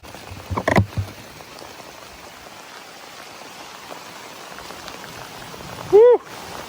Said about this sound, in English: Oh my goodness, it's raining harder.